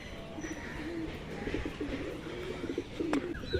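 A hungry pigeon feeding outside its coop on a rooftop coos softly several times against steady low background noise, with faint higher chirps now and then.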